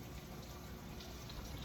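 Water runs steadily through an indoor plant hydration system, a faint, continuous trickling wash at an even level with no talking over it.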